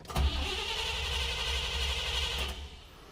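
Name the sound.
car engine cranking and starting with Sniper EFI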